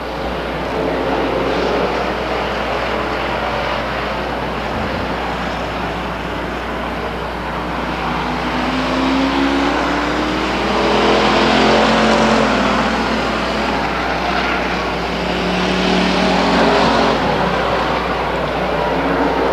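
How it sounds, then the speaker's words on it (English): Race cars lap Stockton 99 Speedway, a steady, loud roar of engines swelling and fading as cars pass, with no voices over it. "The 87 car, Don Lloyd, sneaks under the 53 car for second place"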